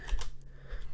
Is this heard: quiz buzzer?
no